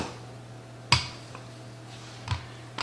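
A metal tart pan is handled in a kitchen while a French apple tart is made. Two sharp, close metallic clinks are separated by quiet, with a faint soft knock between them.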